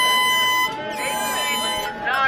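Handheld air horn blaring at a crowded public lecture, a sustained, loud brassy tone running under a voice for over two seconds.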